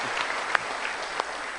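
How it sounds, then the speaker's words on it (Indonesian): A studio audience at a motivational talk claps together in a brief, dense burst of steady applause, close and continuous for under two seconds. "Kita berikan tepuk tangan dulu."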